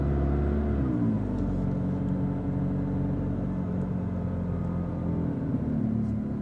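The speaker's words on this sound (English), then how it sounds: "The downshifting is awesome. Hearing the turbo kick in is super cool." A 2019 McLaren 600LT's engine rumbles close by as it downshifts, the revs dropping and swelling while the turbo spools, giving a steady deep drone throughout with no talking.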